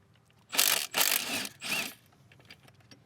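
Ratchet loosening the pitch stopper bolt on a Subaru, three quick close bursts of metallic clicking followed by quiet, with no voices.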